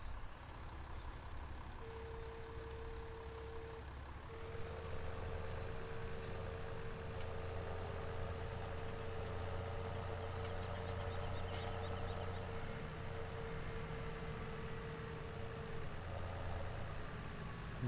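A tractor engine idles steadily in Farming Simulator 17, giving a continuous low mechanical rumble with a sustained tonal hum layered on top, constant and moderately close with no talking.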